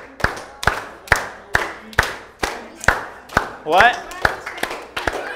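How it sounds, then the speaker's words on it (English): A group claps in steady rhythm along to a sung children's worship song at a vacation Bible school, about a dozen sharp claps spaced roughly half a second apart, with a voice speaking briefly over them. "All right, keep clapping, keep clapping."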